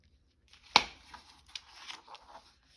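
Scissors fussy-cutting paper pieces for a craft journal, a sharp close snip followed by a few softer, irregular cuts and paper rustles, faint and alone.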